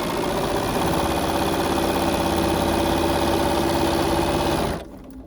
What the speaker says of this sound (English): I'm putting my presser foot down and stitching on the line again.